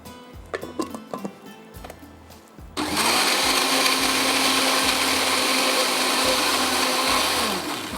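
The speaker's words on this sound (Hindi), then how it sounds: "यहाँ पर हमने क्या किया है, प्याज को पीस लिया है" An electric blender grinds onions, starting abruptly after a few seconds of quiet kitchen clatter and then whirring loudly and steadily to the end.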